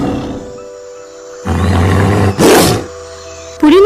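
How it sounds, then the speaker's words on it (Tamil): A big tiger in a children's cartoon story lets out a loud, drawn-out roar that swells and fades over about two seconds, set against steady background music and followed by a sharp rising effect. "அந்த காட்டுக்குள்ளேருந்து ஒரு பயங்கர சத்தத்தோட ஒரு பெரிய புலி அதுங்களை நோக்கி பாஞ்சுக்கிட்டு வந்தது"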